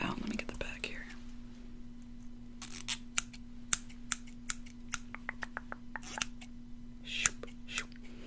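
Close scissors snipping hair during a relaxed ASMR haircut, scattered crisp cuts in short bursts and single snips, with soft whispering and a steady low hum underneath.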